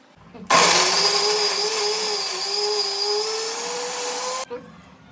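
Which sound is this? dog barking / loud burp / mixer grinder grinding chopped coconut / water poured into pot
mixer grinder grinding chopped coconut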